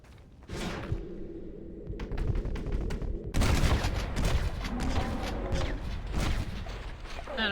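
Rapid gunfire from a Wild West shootout in the video game Red Dead Redemption, with sharp shots that swell into a loud, dense volley over a busy game soundtrack.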